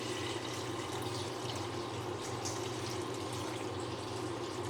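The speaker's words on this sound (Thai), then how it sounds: "ใส่น้ำลงไปเลย ให้ท่วมนะคะ" Water pours steadily into a pot of Thai tilapia curry with oyster mushrooms and young peppercorns, a continuous close rushing splash with no talk over it.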